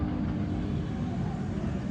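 A steady, heavy low rumble of a helicopter overhead at the Parc Saint-Paul amusement park, droning continuously without pause or voices.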